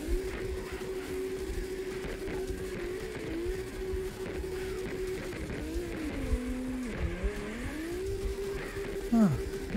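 A Toyota 86 spins out during a drift session in CarX Drift Racing Online, the engine droning steadily and then warbling and dipping in pitch as it loses grip, with a tire squeal near the end.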